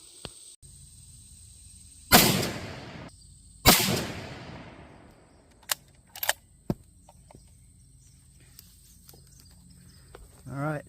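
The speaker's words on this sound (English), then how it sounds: "take a few shots at the target, confirm point of impact and velocities" A 6.5 Creedmoor or .308 Winchester rifle firing Federal Power-Shok or Winchester Deer Season XP ammunition fires two loud, sharp shots at a target about 100 yards away, each with a decaying tail, followed by smaller clicks and knocks in a quiet outdoor setting.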